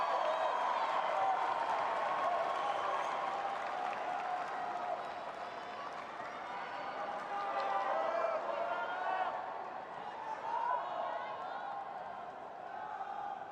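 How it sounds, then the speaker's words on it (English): A large crowd at a 2024 US Open fourth-round tennis match murmurs and claps at match point, a broad steady roar that slowly eases, with a commentator talking over it. "Waits for the crowd to settle back in."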